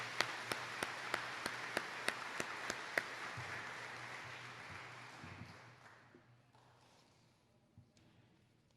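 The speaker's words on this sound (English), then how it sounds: "Now let's clap it up for them" Audience applause at a graduation ceremony, a broad wash of clapping with a few distinct sharp claps standing out early, gradually fading away.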